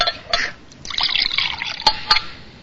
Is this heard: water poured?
yes